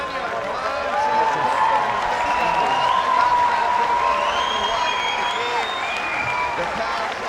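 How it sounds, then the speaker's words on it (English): A boxing arena crowd on its feet at a non-title fight roars and applauds steadily, with whistles gliding over the dense noise. "The crowd on their feet."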